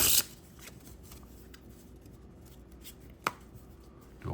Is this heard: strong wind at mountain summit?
no